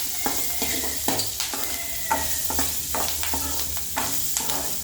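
Red chillies fry in a little oil for gongura pickle, giving a steady crackling sizzle with repeated quick scrapes and knocks of a stirring spoon against the pan.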